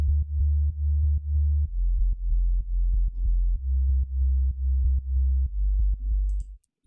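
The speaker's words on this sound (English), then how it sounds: "Then I must not forget the sub bass, which sounds like this." Synthesized sub bass from a future house track, deep sustained notes pulsing in a steady rhythm with sidechain-style dips, alone and fairly loud.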